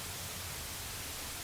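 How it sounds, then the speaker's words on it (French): Television static in an old manor: a steady, even hiss of white noise that fills the whole moment, alone with no voices or other sounds. "Un simple bruit blanc"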